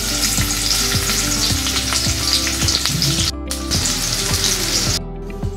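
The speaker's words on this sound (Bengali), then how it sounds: "পেঁয়াজটা ভেজে নিব।" Onions fry in a pan of oil and a spoonful of ghee with a loud, constant sizzle. Sharp scrapes of a spoon recur as they are stirred, and nobody speaks.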